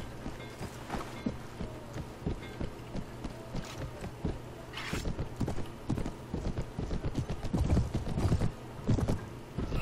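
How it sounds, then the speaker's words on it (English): A donkey's hooves clip-clop in a brisk, regular rhythm while it is ridden in the video game Mount&Blade: Warband with the Brytenwalda mod. The hoofbeats are close and steady over a faint game ambience. "Riding in on my burro."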